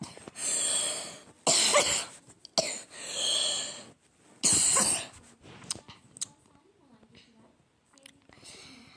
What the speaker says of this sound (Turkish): birazcık öksürdüm birazcık